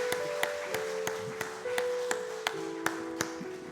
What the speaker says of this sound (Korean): 그런 믿음의 고백에 설 수 있도록 박수로 축복하겠습니다.